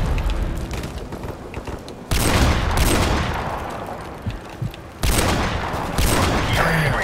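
Rapid bursts of video game gunfire in a first-person shooter match, loud and close, with sharp onsets that then fade before the next volley; little talk over it.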